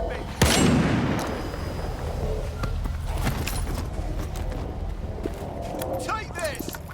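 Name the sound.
gunfire in the video game STALKER 2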